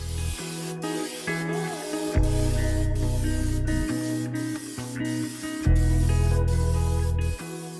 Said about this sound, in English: Let's give it another coat and see if we can get full coverage.